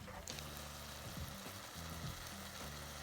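Tomatoes and cashews fry in a pan for a butter chicken sauce, giving a quiet, steady sizzle broken by a few soft stirring scrapes. A low hum runs underneath, and no one speaks.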